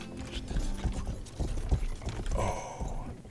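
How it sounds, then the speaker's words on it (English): Horse hooves clip-clop in the medieval open-world crime game Rustler, a quick, uneven patter of hoofbeats mixed with clanking, mechanical-sounding game effects throughout. "I'll ride my horse over to the horse."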